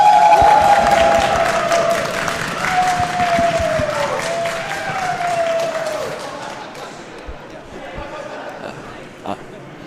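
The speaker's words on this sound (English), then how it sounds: "Go, stomp your feet, clap your hands for Pitbull" A large crowd at an esports tournament final applauds and cheers, loud at first and slowly fading over several seconds, with an announcer's voice over the clapping.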